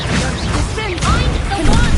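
Spellcasting in the Hogwarts Legacy game, Incendio and Expelliarmus fired in a duel: dense, loud magical whooshes and bursts with sweeping tonal streaks and crackling impacts running continuously across the moment.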